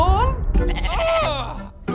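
A goat bleats in a wavering, nasal cry, then lets out a shorter call, close and clear.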